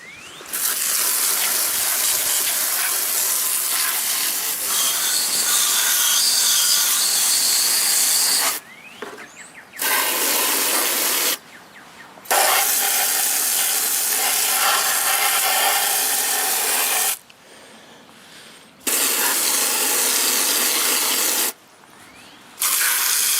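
Water spray hissing steadily as it washes the condenser of a small Whirlpool Coolerator air conditioner, a loud close rush broken by several short pauses.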